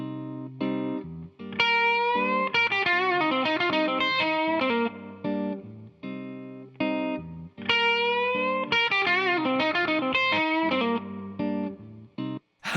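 A busier blues electric guitar lick: distorted, chorus-tinged notes and bends in dense flurries, loud and continuous over a backing rhythm, two long phrases separated by a short gap.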